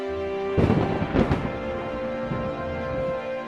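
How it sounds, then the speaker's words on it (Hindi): Two sharp cracks of thunder during a rainstorm break out close together, rumbling briefly before fading into a quiet, steady background hiss. "आसमान में बिजली कड़क रही थी"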